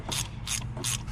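A ratchet turning a 5/8 spark plug socket to loosen a spark plug on a Nissan Murano 3.5 V6 gives three quick, crisp bursts of clicking, close and fairly quiet, with no voices.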